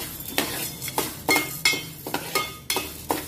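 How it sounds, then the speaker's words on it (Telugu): Dal roasting in a pan while being stirred, with a spatula scraping and clinking against the metal in quick, regular strokes, about three per second, close and fairly loud with no talking. "ఈ పప్పు అయితే కొంచెం వేయించుకోవాలి"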